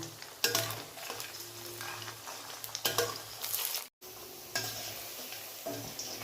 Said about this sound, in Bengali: এবার এগুলোকে আস্তে আস্তে ফ্রাই করে নেব